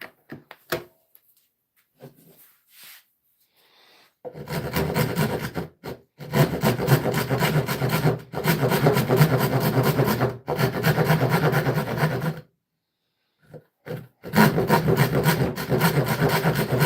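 A wooden toy steering wheel for a child is filed and rasped by hand in long, loud, gritty strokes, several sustained runs broken by short pauses.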